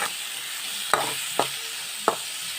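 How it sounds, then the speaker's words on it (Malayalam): Sliced onion sautéing in a pan with ginger and green chilli for Indian-style masala pasta, a low steady sizzle broken by three sharp spoon scrapes against the pan, nearby with no voices. "ഇനി ഇതിൻ്റെ അകത്തേക്ക് നമുക്ക് അരിഞ്ഞു വെച്ചേക്കുന്ന സാവാള ഇട്ട് കൊടുക്കാം അപ്പം സാവാളയോട് ഇട്ട് ഇത് നന്നായിട്ടൊന്ന് വഴറ്റിയെടുക്കാം"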